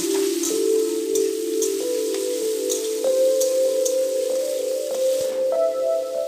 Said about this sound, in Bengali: এখন আমি আলুর টুকরোগুলো দিয়ে দিচ্ছি আর দিয়ে দিচ্ছি অল্প করে হলুদ প্রথমে আমি আলুটাকে ভালো করে ভেজে নেব